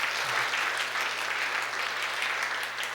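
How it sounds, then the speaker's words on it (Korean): A church congregation applauding together, a dense, even wash of many hands clapping that holds steady throughout without any voices on top. "우리 박수로 서로 격려할까요?"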